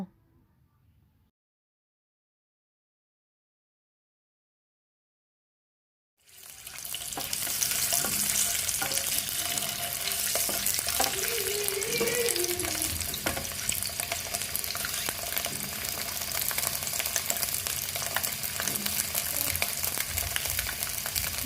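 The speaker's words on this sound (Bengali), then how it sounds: "গরম তেলে ডিমগুলো দিয়ে দিচ্ছি, ভালো করে ভেজে নেব।" Eggs frying in hot oil in a pan while cooking egg korma: after several seconds of silence a loud, steady crackling sizzle begins and continues close up to the end.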